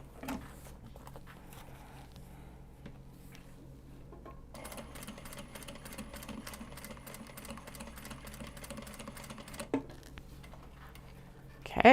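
A sewing machine stitches fabric in a fast, steady mechanical rattle that starts partway through and runs for several seconds before stopping, close and moderately quiet, with soft handling noises before and after.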